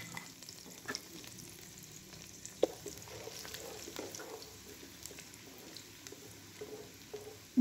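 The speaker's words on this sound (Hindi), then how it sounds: "इनको हल्का सा फ्राई करूँगी" Small chopped garlic cloves fry in mustard oil with a faint, steady crackle and scattered soft pops and spatters, quiet and close, with no talking.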